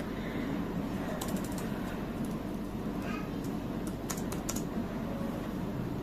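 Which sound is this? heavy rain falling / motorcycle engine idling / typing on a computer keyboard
typing on a computer keyboard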